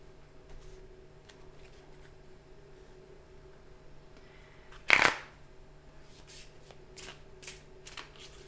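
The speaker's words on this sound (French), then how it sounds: "Je vais prendre une carte de l'oracle" Oracle cards are shuffled once, a short crisp riffle in a quiet room, followed by a few faint light card taps.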